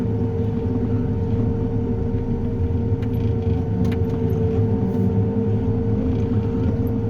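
A tractor-drawn crop sprayer applying herbicide in a field at night gives off a steady, unbroken engine drone with a constant low hum, close and continuous throughout.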